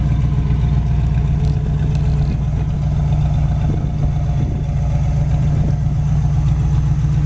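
A 1963 Chevy Nova convertible with dual exhaust idles nearby, a steady, loud low rumble that holds even and unbroken throughout.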